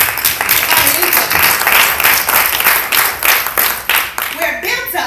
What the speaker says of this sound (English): bless the Lord with the sound of the clapping of their hands